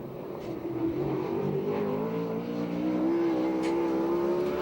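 A USAC/CRA sprint car runs a qualifying lap at Perris, California, its engine droning steadily and climbing in pitch as it accelerates down the straight, loud and continuous throughout without any talk over it.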